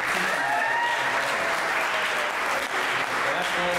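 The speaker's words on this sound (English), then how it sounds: "how about a round of applause?" An audience applauds steadily and loudly throughout, a dense wash of clapping with no breaks, filling the room.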